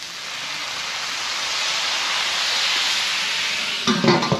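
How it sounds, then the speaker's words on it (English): Water hits a hot griddle and erupts into a loud, steady sizzling hiss of steam that holds for several seconds before a metallic clatter. "Let's throw a little bit of water. We're gonna steam these."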